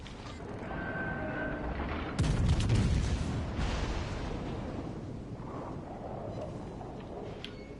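Torpedoes launched from a warship in a naval combat game, a sudden heavy mechanical thump and rumbling whoosh over a constant engine drone, then fading creaks and hum.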